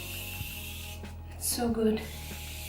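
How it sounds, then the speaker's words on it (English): A Morphe setting mist bottle gives a brief, close spritz of fine spray during a makeup routine, a soft hiss of about half a second set against a quiet room, with a voice speaking just after. "I'm gonna use the Morphe setting mist, and this is gonna make everything look even more luminous and glowy."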